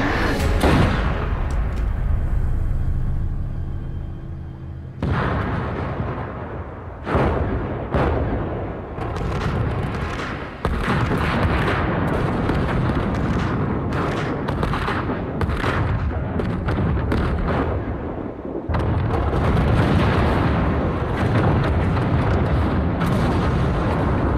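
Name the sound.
explosions blowing up an island in Arrow TV episode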